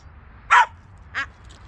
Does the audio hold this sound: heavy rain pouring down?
no